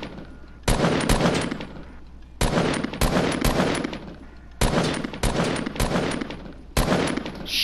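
Automatic weapons fire in Fortnite comes in several loud, close bursts of rapid shots with short pauses between them and no talk over the shooting.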